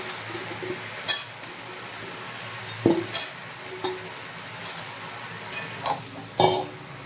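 Malabar spinach (pui shaak) stems and leaves being stirred in a pan, with a soft sizzle under scattered clinks and scrapes of the spoon against the metal, close and moderately loud.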